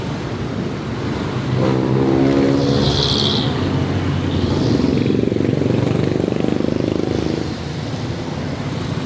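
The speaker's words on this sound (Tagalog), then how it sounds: "Sobra na yung traffic na yan." Heavy road traffic in the Philippines, with cars and motorcycles: a loud, steady wash of engine noise with passing vehicles swelling and fading, and a brief higher whine midway, no talk.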